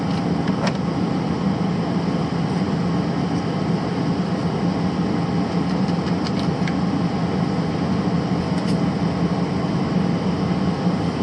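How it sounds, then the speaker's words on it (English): Repaired Airxcel Maxxair Maxxfan roof vent fan running steadily, a continuous broadband whirring hum with no breaks, occasional faint ticks on top and no talking. "And I just turned the fan back on."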